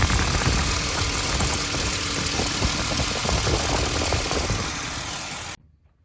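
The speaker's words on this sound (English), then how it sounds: "So at this point, I have the vehicle running." The 4.0-liter engine of a 2006 Ford Explorer idles close by with a steady mechanical hum and light ticking before the sound cuts off abruptly near the end.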